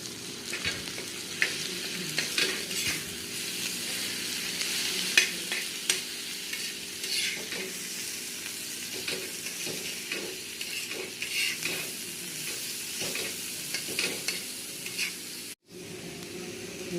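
Prawn chutney (kolim) sizzles and fries steadily in a pan while a spoon stirs it with repeated scraping strokes, a close continuous crackle with no talking.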